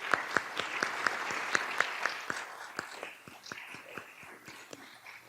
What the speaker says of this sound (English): please stand so we can all join in applauding your outstanding